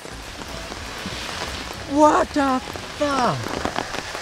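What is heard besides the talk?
heavy rain downpour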